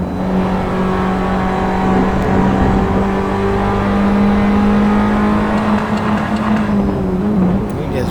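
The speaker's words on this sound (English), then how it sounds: "Banging off the rev limiter there, going into turn 12." Formula Abarth race car engine at the Hungaroring, screaming steadily at high revs and banging off the rev limiter on the approach to a corner, loud and sustained with a faint voice underneath.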